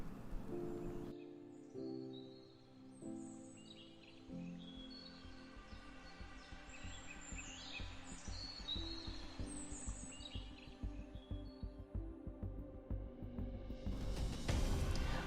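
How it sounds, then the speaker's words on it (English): Recorded birdsong with chirps and tweets over a steady flowing-water wash, played as the wake-up sound of a sunrise alarm clock, continuous and moderately loud, building slightly toward the end. "a natural bird chirping and flowing river sound will initiate"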